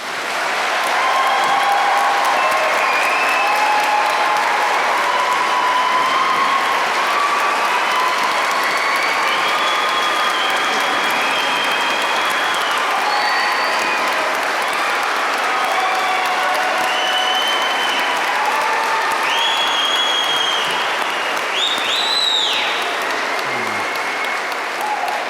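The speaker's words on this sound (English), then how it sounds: "join me in a round of applause for the classes of 2020 and 2021" A large audience at an undergraduate commencement ceremony gives sustained, dense applause for the graduating classes of 2020 and 2021, clapping steadily for over twenty seconds with a few whistles and cheers near the end.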